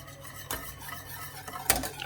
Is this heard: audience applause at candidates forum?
no